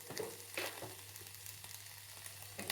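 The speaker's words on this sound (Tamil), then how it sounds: "பூண்டு, இந்த துவையலுக்கு தேவையான அளவுக்கு உப்பு இது எல்லாம் போட்டு வறுத்தெடுத்துடலாம்." Garlic, onion and salt roasting in a pan for chutney, a soft steady sizzle with occasional stirring clinks and scrapes, close but faint.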